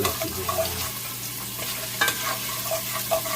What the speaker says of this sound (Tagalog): Ito, sinasangkot siya natin para malasa.